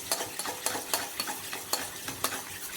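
Eggs with chopped onion, green chili, pepper and salt are beaten for a bread omelette, with quick regular clicking strokes of a utensil against a bowl, close and clear with no talking.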